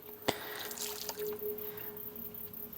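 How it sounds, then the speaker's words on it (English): A sponge loaded with car wash solution drips and trickles softly, a faint wet patter with a small splash near the start over a low steady hum. "So you want to get this sponge onto the verge of dripping."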